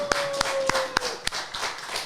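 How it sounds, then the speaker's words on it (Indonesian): Sparse hand clapping in a small gathering for guest Pak Teguh at a foundation talk event, a few separate sharp claps about every third of a second, fairly close, with no crowd roar. "tepuk tangan dulu buat Pak Teguh ya"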